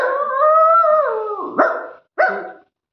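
A man imitates a dog with his voice: a long wavering howl-like whine, then two short yelping barks, loud and close with no other sound.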